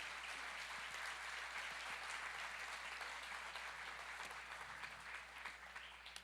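A church congregation applauding during a Spanish-language service, a dense, continuous wash of clapping that sounds fairly distant and fades slightly toward the end, with no clear talk over it.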